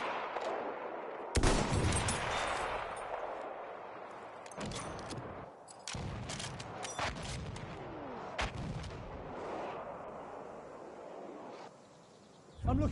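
Artillery barrage and gunfire in the Battlefield 1 first-person shooter, played on PlayStation 4: heavy booming blasts and cracking shots hit repeatedly over a constant roar of battle, loud and close, with sharp bursts spaced through the scene.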